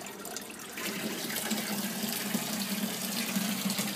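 Water pouring back into an aquaponics sump, a steady splashing trickle that starts softly and then settles into a constant, fuller flow.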